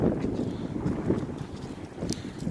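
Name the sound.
strong wind blowing outdoors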